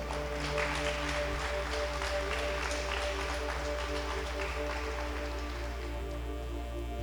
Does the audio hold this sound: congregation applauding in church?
yes